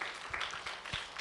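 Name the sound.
congregation applauding in church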